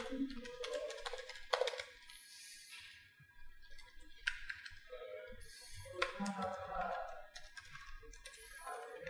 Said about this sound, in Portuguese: Preciso digitar alguma coisa de fato